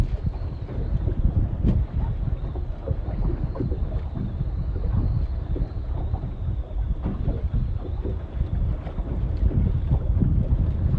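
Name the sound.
wind blowing fishing rods on a boat on the Potomac River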